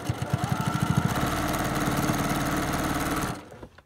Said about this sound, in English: I'm gonna sew until it gets to the quarter inch marker right here.